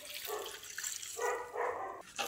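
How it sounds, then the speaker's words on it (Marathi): Amaranth greens are rinsed under a running kitchen tap, giving several short, faint bursts of splashing water in quick succession. "ही स्वच्छ पाण्याने धुवून घ्यायची"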